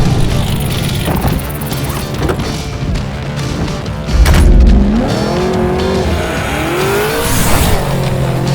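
A 2009 Cadillac CTS-V street-legal drag car lets out a loud, deep choppy exhaust note, rising and falling as the engine revs, with a sharp surge in the middle and tire noise mixed in.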